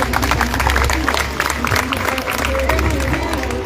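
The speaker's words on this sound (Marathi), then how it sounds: "पालकांचं जरा टाळ्या वाजून स्वागत करा" A crowd at an Azad Maidan protest claps in welcome, a dense continuous roar of applause with cheering mixed in and voices throughout.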